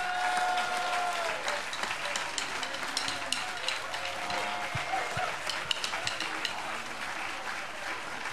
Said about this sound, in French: Sous vos applaudissements, Mr.